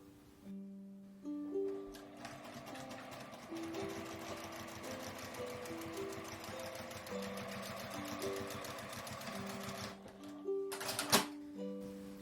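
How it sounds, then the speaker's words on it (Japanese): A sewing machine stitches layered quilting and outer fabric with a 1 cm seam allowance, a rapid, steady mechanical chatter close by. It pauses near the end, then gives a short final burst. "上端を1センチの縫い代で縫います。"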